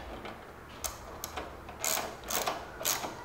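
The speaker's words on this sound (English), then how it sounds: "And now we're going to tighten these guys up, run it down." A ratchet tightens the mounting bolts on a Prima rear rack for a Buddy scooter, a few short, close clicking bursts in an irregular rhythm with quiet gaps between them.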